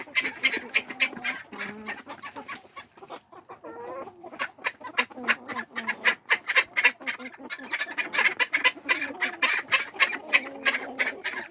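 Ducks in a coop quack and chatter in quick, repeated bursts, close and fairly loud, with a few softer gaps between calls.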